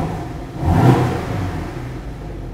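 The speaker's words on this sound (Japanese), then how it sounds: "少しアクセル踏んでみます。" A 2016 Porsche 718 Boxster with PDK and Sport Chrono package blips its engine once with the exhaust valves open, a short, sharp, dry rev that swells and quickly settles back to idle, heard up close.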